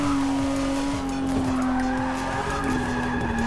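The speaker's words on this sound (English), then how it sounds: "feel a bit of wheel spin as I come in through these corners here, but not too much as it will certainly go into a drift." A car's tyres spin and squeal as it is driven hard through corners on the edge of a drift, a long sustained screech wavering over the engine drone, loud and close with no talking.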